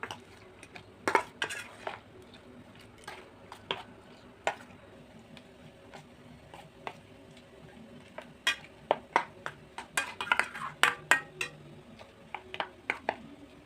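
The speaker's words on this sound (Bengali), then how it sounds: "তো একটা চামচ দিয়ে এখন সব ভালোভাবে মাখিয়ে নেব" A spoon working prawns and spice powders together in a bowl for prawn bhapa, with scattered metallic clinks and scrapes that come in quick, uneven bursts, close and fairly quiet, no talking.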